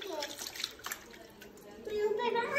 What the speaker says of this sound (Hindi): दियारा आप वो वाले कपड़े को करो पानी के अंदर और मैं ये वाले कपड़े को ठीक है.